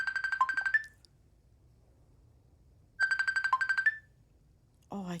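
Phone ringtone chiming in the farming game Farm Together 2: two short bursts of rapid, bright electronic notes separated by a pause of about two seconds, followed by a brief voice speaking at the end.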